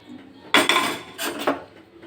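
Roasted semolina tipped from a pan into a bowl, with a few close, bright clinks and scrapes of metal dishware in quick succession.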